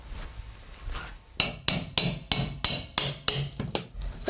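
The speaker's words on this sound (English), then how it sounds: "What I'm using to take up the old baseboards is just a pry bar and a hammer" Hammer and pry bar striking and levering old baseboards off a wall during a room renovation, a loud run of about ten sharp, evenly spaced metallic knocks with no talking.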